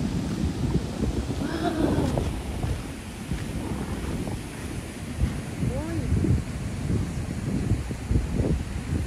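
Steady gusty wind buffets the microphone outdoors, a constant low rumble with faint voices in the background.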